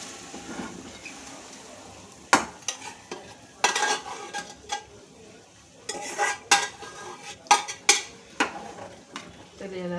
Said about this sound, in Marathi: तर याला छान मिक्स करून घ्यायचं आहे.